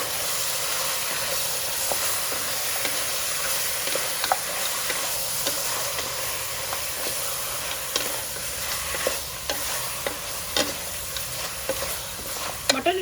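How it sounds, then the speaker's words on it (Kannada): Mutton frying in a pan with salt and turmeric, giving a steady, loud sizzle and hiss throughout, with occasional stirring scrapes and clinks near the end. "ಅದ್ರದ್ದು ಚೆನ್ನಾಗಿ ಫ್ರೈ ಮಾಡ್ಕೊಳ್ಬೇಕು ಮಟನ್ ಚೆನ್ನಾಗಿ ಫ್ರೈ ಆಗೋಷ್ಟರಲ್ಲಿ"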